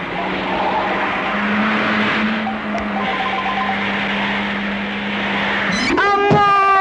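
An expensive car skids and strikes people, with a steady engine drone that ends in a sharp, rising tire squeal near the close, loud and close.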